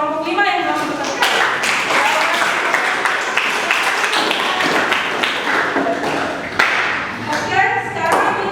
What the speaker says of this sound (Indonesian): Kita berikan aplaus kepada kelompok 5 yang telah mendapatkan.